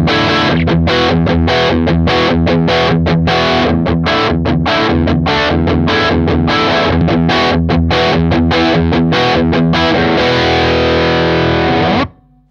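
Electric guitar lead played through a boost pedal pushing the amp into extra gain, a loud distorted line of fast notes and chords that rings out and cuts off near the end.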